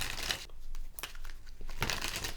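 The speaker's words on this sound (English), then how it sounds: "So I'm just going to shuffle up the cards here" Gilded Tarot Royale tarot cards being shuffled by hand, giving bursts of close, papery riffling and crinkling at the start and end with a softer stretch of handling between, no talking.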